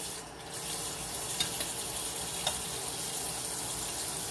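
Potatoes rinsed under a running kitchen tap, a steady faint stream of water with a few light knocks and splashes, no talking.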